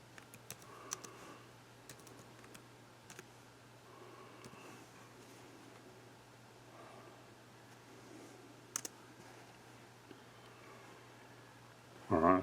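Someone typing a search for an animal track on a computer keyboard, with soft, steady key clicks in short bursts against a quiet room hum, ending in a louder click.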